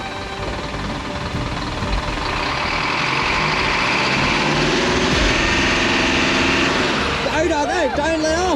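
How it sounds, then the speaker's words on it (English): A 4x4 truck on an off-road riverfront campsite by the Murray River revs hard to spin mud from its tyres, a loud sustained engine roar with wheel spin, while people talk and call out over it. "just give it a big squirt. Yeah, just to spin the mud out of the tyres"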